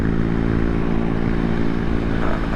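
A Kawasaki Ninja Z250 motorcycle engine drones steadily while being ridden at night, loud and close, its twin-cylinder hum holding an even pitch throughout.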